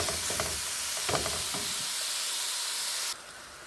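Meat for tibs fries in a hot pan, a close, steady sizzle broken by a few scraping stirs early on, with the hiss dropping abruptly near the end.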